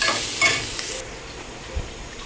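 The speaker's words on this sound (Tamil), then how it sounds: "வெங்காயம் வதங்கிட்டுருக்கு" Onions sauté in a pan for a home-cooked lunch, a close, bright sizzle that is strongest for the first second, then drops to a softer, steady frying hiss with a single light scrape of stirring.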